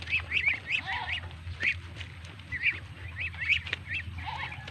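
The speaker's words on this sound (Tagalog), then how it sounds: "Yung mga kasabayan niya na Muscovy duck, no?" A small flock of Muscovy ducks calling nearby, repeated short breathy honks and hisses in quick bursts over a low steady background hum.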